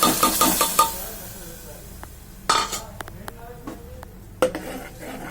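Ground onion, tomato and ginger-garlic paste being sautéed in a pan for a broccoli kurma, with a quick burst of metal spoon clinks and scrapes, then sparse stirring knocks and a soft sizzle in between.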